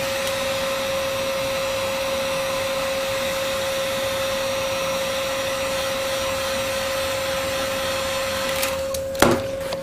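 A heat gun blows steadily on a vinyl VW Beetle door panel during upholstery repair, a constant close whooshing drone with a steady tonal whine that runs the whole time, ending in a few brief clicks and knocks.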